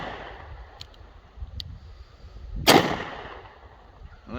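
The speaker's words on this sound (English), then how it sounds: "I'm going to see what double-aught 410 buckshot is going to do to this target here." A double-barrel Ducktown Derringer fires one round of .410 double-aught buckshot: a single sharp, loud report in the middle of the clip. It follows a few faint small clicks and fades into a short quiet tail, with no talking.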